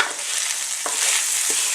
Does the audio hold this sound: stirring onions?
yes